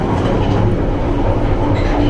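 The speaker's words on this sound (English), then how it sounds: "The tube in London." London Underground tube train riding along the rails, a loud, steady rumble and roar with faint clattering throughout, heard from inside close up with no talking.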